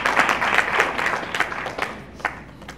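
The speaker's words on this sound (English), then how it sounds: "let's give a round of applause for our wonderful panel" An audience applauds a panel at a conference on American Indian holistic living, a steady wash of many hands clapping throughout, moderately loud and close, with a few sharper claps standing out and no talk over it.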